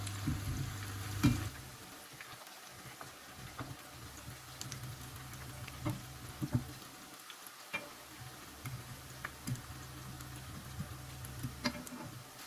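Moroccan chebakia honey biscuits fry quietly in hot oil, a soft, low sizzle dotted with small ticks and pops and an occasional utensil knock.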